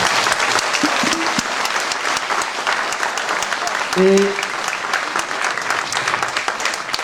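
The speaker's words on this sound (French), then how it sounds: "Et vous pouvez vous applaudir, bien évidemment." Loud, sustained applause from a large audience at a musical comedy show fills the room, steady and dense throughout, with a few brief whistles or cheers rising above it.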